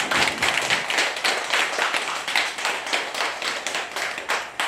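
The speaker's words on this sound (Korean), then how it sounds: "동의하시면 박수 치시고 찬양하겠습니다." Audience clapping in unison at a Buddhist dharma talk, a steady rhythmic patter of many hands that continues for several seconds, fairly close and with no talk over it.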